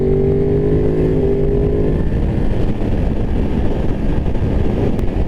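A 2023 Ducati Monster SP motorcycle cruises at 65 mph. A steady engine drone sits under constant, loud rushing noise, and a faint tonal whine fades after the first couple of seconds.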